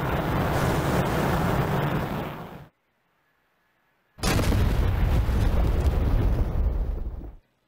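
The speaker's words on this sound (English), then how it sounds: "Go for four Gs and bombs away." Bombs dropped in a flight simulator game explode in two long, loud rumbling blasts, each roaring for a couple of seconds, broken by a brief silent gap, close and heavy with no talk.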